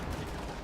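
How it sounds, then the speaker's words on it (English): StuG assault gun cannon fire in Company of Heroes 2 amid dense battle noise, a continuous loud wash of gunfire and explosions with no distinct single shot standing out. "got a shot there from Stug, failed to penetrate"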